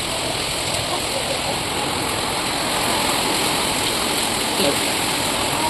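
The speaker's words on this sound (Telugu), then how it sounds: "ఎందుకంటే వర్షం చూడండి సౌండ్ వినిపిస్తుంది మీకు నా వాయిస్ కంటే వర్షమే వినిపిస్తుంది అనుకుంటున్నాను నేనైతే" Heavy rain pouring down after a cyclone, a loud, dense, steady roar of falling water close by throughout.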